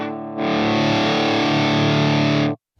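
Distorted electric guitar solo played through a Line 6 Helix LT with a PRS-style tone, sustained and loud, with dense harmonics running steadily for about two seconds before cutting off abruptly.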